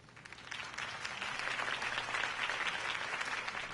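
A crowd applauds after a campaign speech, a dense, steady burst of clapping that rises quickly and holds strong for the whole stretch.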